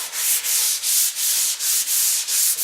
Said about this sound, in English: by sanding down the different layers of paint